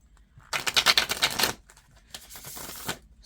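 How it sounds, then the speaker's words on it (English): A deck of tarot cards shuffled by hand in two bursts, a long crisp riffling flurry followed by a shorter, softer run of shuffling, close and fairly loud, with no talking. "I've already shuffled the deck, but I am going to shuffle it a few times."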